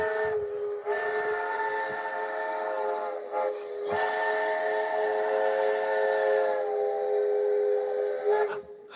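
A train whistle sounds long, loud and close, in sustained tonal blasts with brief breaks, over the rumble of a passing train; no talking.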